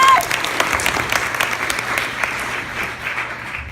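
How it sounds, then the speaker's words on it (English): An audience claps loudly together, a dense burst of applause that slowly thins and fades over a few seconds. "let's give him a round of applause"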